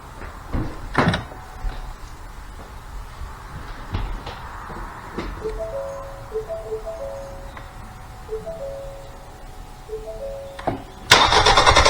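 A Ford Escape, just after an oil change, sits with scattered clicks and thumps and a repeating dashboard chime before its engine cranks and catches loudly in the final second.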